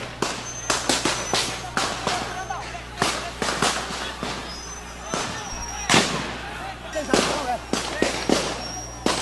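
Repeated sharp gunshot cracks during a prison riot, irregular and fairly close, ring out over a steady low hum while people shout and talk in the background.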